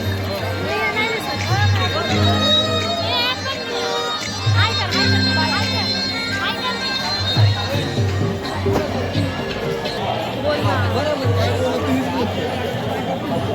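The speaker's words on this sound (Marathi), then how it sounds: "खूप गर्दी आहे" A dense crowd at a palkhi fair fills the air with continuous chatter and babble, many voices overlapping close by with a low steady hum underneath throughout.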